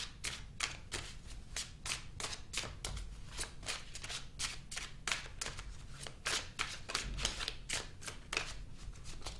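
Tarot cards being shuffled by hand, a steady run of crisp riffling bursts repeating close up and fairly quiet, with no talking.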